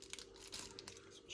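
Plastic shrink wrap being crinkled and torn off new RC car electronics during a WLtoys 12429 crawler conversion, close, quiet crackling and rustling in uneven bursts with faint speech in the background.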